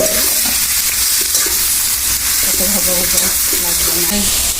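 Onions browning in a pan with spices and minced chicken, stirred steadily: a loud, continuous sizzle with scraping spatula strokes throughout, and faint voices underneath at times.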